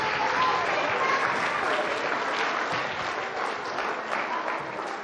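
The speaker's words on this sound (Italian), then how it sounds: "Un applauso." An audience at an Italian sports broadcast applauds young football players, steady dense clapping throughout that eases off slightly toward the end.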